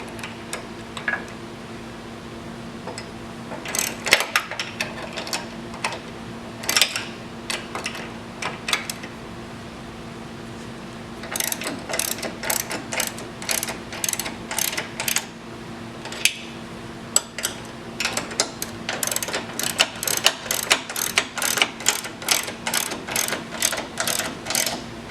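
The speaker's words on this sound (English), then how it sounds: "I'm just going to snug these bolts up" Ratchet wrench snugging bolts during a flap installation on a 2019 or older Wright stand-on mower: bursts of rapid, close clicking, sporadic at first, then long steady runs of ratchet strokes, with no talk.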